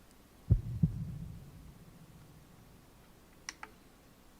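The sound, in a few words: heartbeat sound effect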